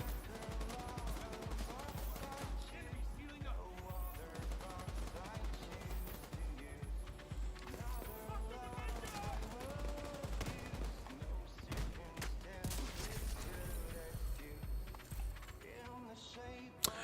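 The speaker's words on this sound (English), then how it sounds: "This turret going crazy." Automated turret in The Division 2 firing rapid, steady bursts of gunshots that run almost continuously, loud and close, mixed with game sounds and a voice talking.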